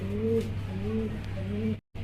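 A Black Lahori pigeon coos in a steady series of low, rolling calls, close and clear over a faint background hum, broken by a brief silent gap near the end.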